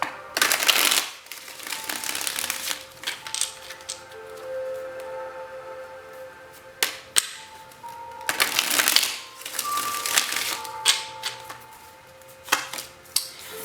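Tarot cards are shuffled in several quick riffling bursts, with pauses and light handling noises between them, close by.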